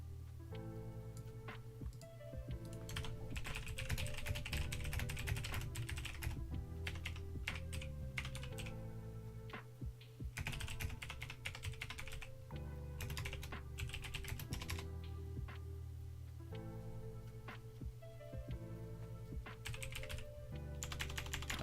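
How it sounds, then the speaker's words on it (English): Computer keyboard typing during a live stock market stream, with rapid, irregular clicks in bursts and short pauses, steady and close, with no talk over it. "Just typing in Discord"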